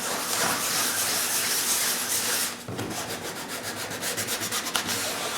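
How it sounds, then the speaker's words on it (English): Hand sanding of EkoFill wood filler in a circular motion: continuous close, scratchy rubbing, smooth at first, then breaking into quick, even rhythmic strokes. "you can sand them in a circular motion."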